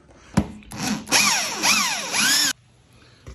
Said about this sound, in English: Go ahead, ratchet it down.